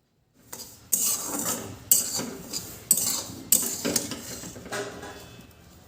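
Dry semolina is roasted in a pan over low to medium flame, with four or five sharp metallic scrapes and clanks of a spoon against the pan spaced about a second apart, each trailing into a soft rustle that fades at the end.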